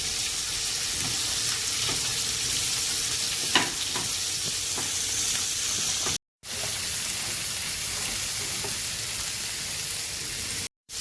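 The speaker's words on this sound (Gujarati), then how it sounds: "હવે આપણે બધું મિક્સ કરી દેવાનું છે" Kantola (spiny gourd) being stirred in a pan with turmeric and salt, a soft steady sizzle with occasional light scrapes of the spoon, close and without talk.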